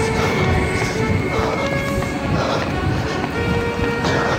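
A London Underground train pulling into a platform, a loud rumbling roar of wheels on rails with clattering and faint squealing tones, close by and continuous.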